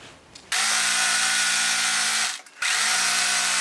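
Sewing machine stitching the side seams of a fabric grow bag, a loud steady motor whir running continuously, pausing briefly, then starting again for a second seam.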